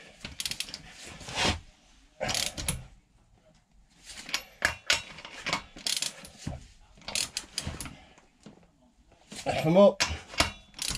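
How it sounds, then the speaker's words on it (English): A torque wrench ratchets as it tightens the splash guard bolts on a Honda Crosstourer 1200 motorcycle, giving several short bursts of clicking separated by pauses, with talk mixed in throughout. "It's a torque wrench."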